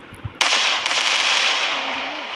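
A firecracker in a Diwali-themed video game bursts with a sharp crack, then sends out a long, loud hiss and crackle that lasts about two seconds.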